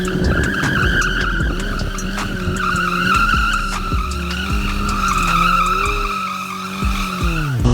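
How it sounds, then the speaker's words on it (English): Kawasaki 636 motorcycle drifting with a loud, continuous tire skid and squeal layered over the revving engine, sustained and close throughout. "It drifts and does crazy Larrys like no one's business."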